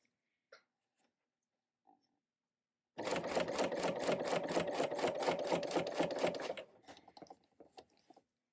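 A serger sews through several layers of fabric on a zipper storage pouch, running in one steady, rapid, whirring rattle for several seconds after a few faint clicks, then slowing into lighter mechanical taps.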